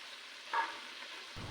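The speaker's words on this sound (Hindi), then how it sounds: "चिकन फ्राई हो रहा है।" Chicken pieces frying in oil over a medium flame, covered with a pressure cooker lid, giving a steady soft sizzle throughout with a brief louder burst of spatter partway through.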